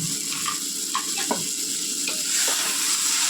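Ingredients for a seafood dish are sautéed in a pan, giving a continuous close sizzle with occasional stirring scrapes and light clatter, without any speech.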